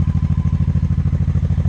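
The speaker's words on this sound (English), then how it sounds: "You can hear the bike is idling a little bit loud because the choke's on" A motorcycle idles loudly with the choke on, its engine beating in a fast, even throb that stays steady and close throughout.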